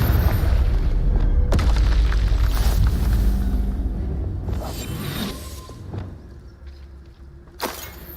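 Confringo explosion spell cast in Hogwarts Legacy, a loud booming blast with swooshing bursts and sharp crackles, fading into rumbling game ambience with a final pop near the end.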